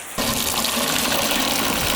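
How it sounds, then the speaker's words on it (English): Garden hose water sprays over the roof of a turbo kit car, starting abruptly into a loud, continuous hiss and patter of water running over the body, close and steady. "Let's spray a little over on that roof too, just for good measure"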